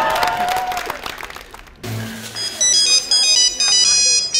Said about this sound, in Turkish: Kim telefon qilyapti?